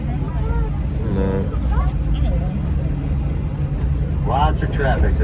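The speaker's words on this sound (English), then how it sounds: "Lots of traffic tonight." Night traffic on a Las Vegas street rumbles steadily from inside a tour bus, a continuous low engine and road drone with passing vehicles, while people talk and chatter over it.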